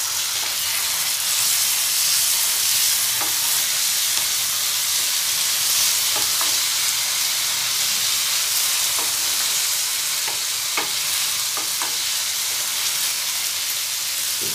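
Onion and tomato fry in a pan with a loud, constant hissing sizzle that fills the whole stretch without a break, dotted with faint clicks of stirring.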